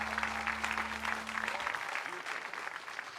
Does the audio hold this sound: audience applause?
yes